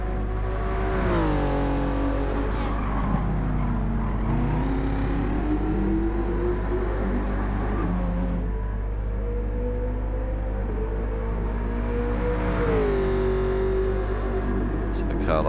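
Race cars in Gran Turismo 7 on the reversed Sardegna circuit during a Manufacturers Cup race, engines droning and shifting pitch steadily throughout, with a commentator talking over them.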